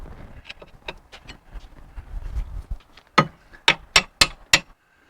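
Big hammer striking a bolt into a suspension link bush on the De Dion rear axle of a 1970 Rover P6 3500 S, five sharp metallic blows in quick succession, loud and close, after quieter scraping and handling.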